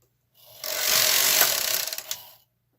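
A single sweep of a knitting machine carriage across the needle bed, a close, loud mechanical rasp and whir lasting about two seconds before it stops.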